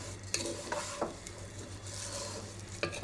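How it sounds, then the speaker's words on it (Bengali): Vermicelli fries in hot ghee in a pan, a steady sizzle broken by a few sharp clinks and scrapes of a spoon stirring against the metal, close and without talk. "দুধ সেমাইয়ের জন্য এখানে দিয়ে দিচ্ছি আমি ঘি প্রথমত, আর সেমাইটা ভেজে নেব।"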